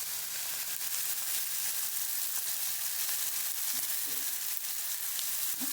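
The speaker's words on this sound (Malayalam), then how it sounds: "നമ്മൾ അതിലേക്ക് തക്കാളി ചേർത്തിട്ട് തക്കാളി കുറച്ച് മൂപ്പാവണം." Tomatoes fry in a pan with a steady, close sizzle that holds at an even level throughout, broken only by a few faint scrapes near the end; nobody speaks.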